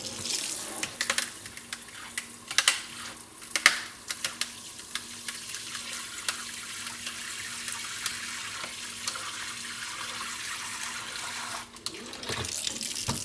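Hot water runs steadily from a tap into a sink, a continuous close hiss with small splashy spikes throughout, ending in a brief louder gush.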